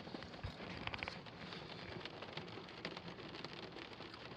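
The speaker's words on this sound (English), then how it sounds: "It's a very rainy day today." Heavy rain pours down steadily outside in Puyallup, Washington, beside a burger place, a dense, even hiss of drops on surfaces throughout with a few sharper spatters, fairly quiet and with no voices.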